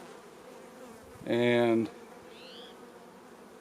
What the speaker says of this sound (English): I got pollen all over this one bee that's walking around in here